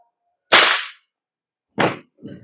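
A VFC Knights Armament KS-1 L403A1 airsoft gas blowback rifle fires with a sharp, crisp crack, followed by a second short burst and a fainter tail, each sound standing alone against silence.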